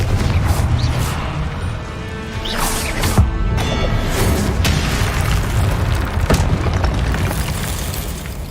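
A Confringo blasting spell explodes in Hogwarts Legacy, producing a series of loud booms and crashing bursts over a dense rumbling background, with several sharp impacts spaced across the stretch.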